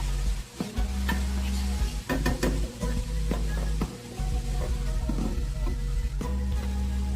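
Thai-style soup with butternut squash cooking in a pot under a lid, giving a steady, close sizzling and bubbling hiss with occasional scrapes and knocks throughout.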